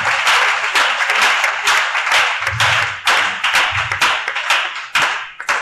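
A congregation at a church seminar bursts into steady, rhythmic clapping, a dense and fairly close round of applause that continues throughout with no speech over it.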